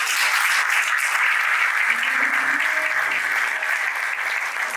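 A church congregation applauding in praise of Jesus, dense sustained clapping filling the room at full volume, with a few faint voices mixed in.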